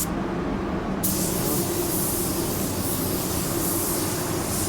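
A car bumper being spray painted in winter with an Ultra 9K gun gives a steady, loud, close airy hiss that holds evenly throughout, with a slight shift in tone after the first second.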